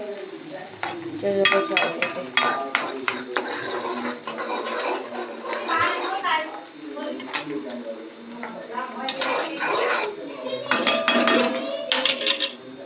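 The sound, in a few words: frying and stirring pasta ingredients in a pan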